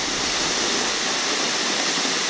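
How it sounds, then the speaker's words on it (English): River Falls waterfall on the Buffalo River Trail roars in a steady, dense broadband rush, close and continuous with no voices. "This is River Falls."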